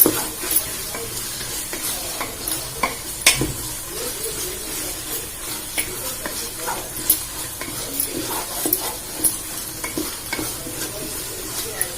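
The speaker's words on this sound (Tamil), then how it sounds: "இஞ்சி பேஸ்ட் நல்லா அந்த பச்சை வாடை போற வரைக்கும் நல்லா வதக்கிக்கணும்." Ginger paste fries in a pan for mutton dum biryani, a soft continuous sizzle broken by frequent close spoon-scraping strokes across the pan, with no voices.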